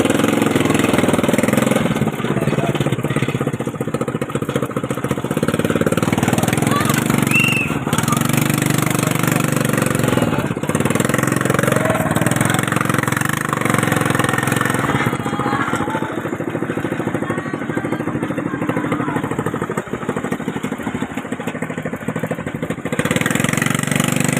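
A motorcycle engine idles steadily and loudly on a street in Tondo, Manila, a continuous mid-pitched rumble with a faint high whine and muffled background noise throughout.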